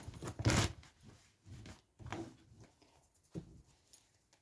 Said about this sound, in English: Let me give one more shuffle.